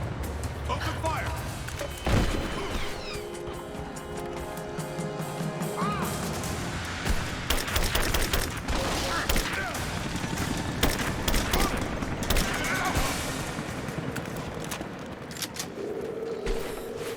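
Gunfire crackles in bursts through Rise of the Tomb Raider combat, with sharp impacts and crashes throughout, mixed with game music and voices talking over the fight.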